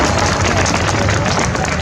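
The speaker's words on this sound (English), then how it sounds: "Give them a round of applause." A large crowd at an outdoor March for Our Lives rally in Baltimore claps and cheers in a dense, continuous roar that holds steady and loud throughout.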